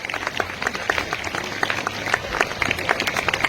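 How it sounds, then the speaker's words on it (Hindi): Audience applause at a school Independence Day ceremony at an Anglo Urdu high school, as a graduate and parents are called to the stage: dense, steady clapping from many hands, moderately loud and continuous throughout, with no talk over it. "जोरदार तालियां बच्चों।"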